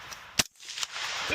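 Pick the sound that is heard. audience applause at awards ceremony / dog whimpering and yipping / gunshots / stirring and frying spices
gunshots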